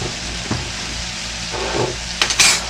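A bologna breakfast scramble with minced garlic and spices sizzles in a skillet. A steady close frying hiss carries a few utensil scrapes, and a brighter burst of stirring comes near the end, with no speech.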